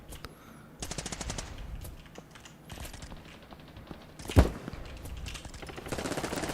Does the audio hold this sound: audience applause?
no